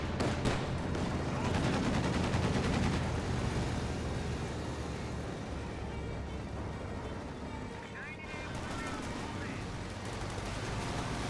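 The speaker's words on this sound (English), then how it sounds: "We do have another M15 firing away against that" An M15 half-track fires away in a Company of Heroes 2 battle, with rapid automatic gunfire and explosions layered under steady talk from a caster.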